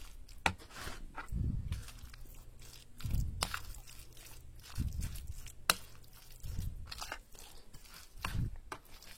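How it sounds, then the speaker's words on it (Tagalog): Chopped spring onion is tossed together in a bowl for a big batch, giving five or six close, soft crunchy-squishy mixing strokes at a steady, uneven rhythm with no talking. "ang ating spring onion, paghaluin muna natin sila."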